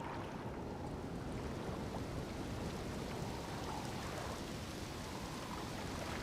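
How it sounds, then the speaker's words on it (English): Rain falling in a video game, a dense, continuous hiss of steady rainfall with a low rumble beneath it, even and unbroken with no voices. "It's raining."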